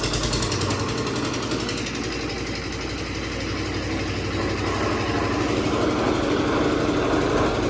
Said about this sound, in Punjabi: ਤਾਂ ਜਨਰੇਟਰ